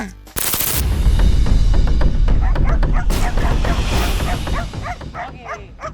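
A dog barks rapidly and loudly at a threatened iguana, sharp close barks repeating almost without pause, mixed with yips and some voices underneath.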